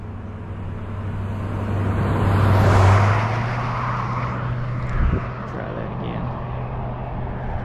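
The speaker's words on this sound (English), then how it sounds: "Here comes a car here next to me" A car drives past on a road next to someone running an RC speed car. It swells to a broad, loud whoosh in the middle of the stretch and then fades away, while someone talks.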